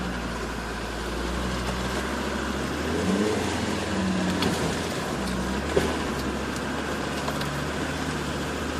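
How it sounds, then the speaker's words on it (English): A Land Rover Defender 110 engine drones steadily in low first gear while climbing a rutted track, a continuous close mechanical hum with a slight rise in load midway and a small knock near the end. "I'm going up this pretty rutted track here, just in first gear low"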